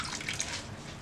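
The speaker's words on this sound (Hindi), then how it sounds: "इसमें मैं करीब 1/4 कप पानी डाल रही हूँ।" About a quarter cup of water is poured into mango puree in a pan on a low stove flame, a brief, close, bright splashing trickle.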